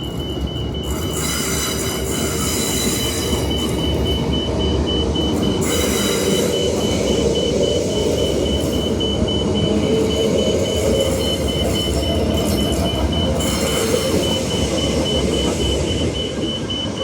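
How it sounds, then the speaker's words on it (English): Trains roll back toward the depot at McIver Station, with a continuous loud rumble of wheels on track, sustained metallic squealing and a steady high whine throughout, and no voices. "Honestly, I've never watched the trains, how they go back to the depot like this"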